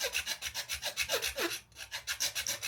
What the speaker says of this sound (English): So I just marked on the sacred and I'm gonna file right down.